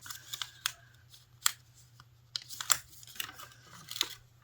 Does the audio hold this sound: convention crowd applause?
no